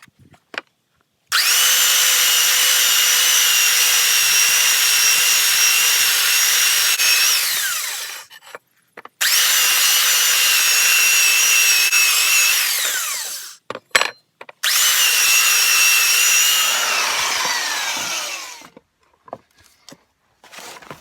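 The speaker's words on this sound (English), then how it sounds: "I'll use the belt sander on here now just to get a nice surface on the edge." A belt sander grinds the edge of a spoked steel wheel for an engine cart, running in three long, loud, steady stretches separated by brief pauses, near and without speech.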